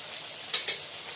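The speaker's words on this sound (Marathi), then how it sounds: "आपला मसाला मस्त तेल सुटोस्तर परतून घ्या" Spice masala frying in oil in a pan for a fasting-style puri bhaji, a soft continuous sizzle with two quick scraping stirs near the middle, no talk.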